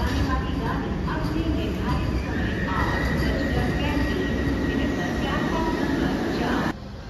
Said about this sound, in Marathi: काहीच काश्मीरला चाललेली ट्रेन आहे